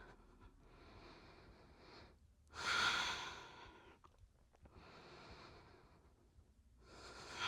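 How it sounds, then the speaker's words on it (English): Slow, deep breaths during a core yoga session, with a loud airy inhale-exhale at the centre flanked by softer, quieter breaths, close up with no talking. "Take another couple of deep breaths."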